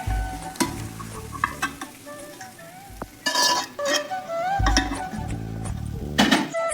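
An egg frying in oil in a kadai, with sizzling broken by repeated scraping and stirring strokes of a spatula against the pan, close and fairly loud, with no talking.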